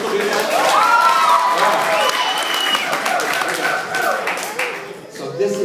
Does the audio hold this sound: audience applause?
yes